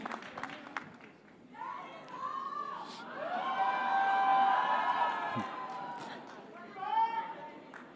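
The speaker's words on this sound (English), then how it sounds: "So a big round of applause, ladies and gentlemen, for Yash." A crowd at a stage event with Yash cheers and shouts excitedly, rising to a loud swell of whoops and screams in the middle and a final burst near the end, with some voices carrying over the din.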